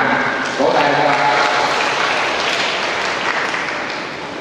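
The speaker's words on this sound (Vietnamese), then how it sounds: "Vỗ tay cho bạn." A congregation at a church service claps together in a sustained round of applause that slowly tapers off, with no voices over it.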